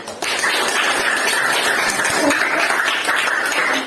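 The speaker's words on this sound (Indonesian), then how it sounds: "Tepuk tangan dulu, Nak" Students in a classroom clap for a group that has just finished its presentation, a sustained and dense round of applause that starts abruptly and stays loud, with little talking.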